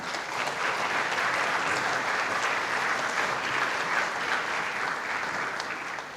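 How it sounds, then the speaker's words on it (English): Audience at a high school jazz and symphonic band concert applauds in a steady, full round of dense clapping that holds evenly and tapers slightly at the end. "Another round of applause for Ben and An."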